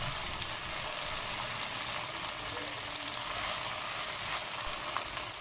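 Vegetables sizzle steadily in a hot pan while being stir-fried for chicken shawarma, a loud, continuous broadband crackle with no voices.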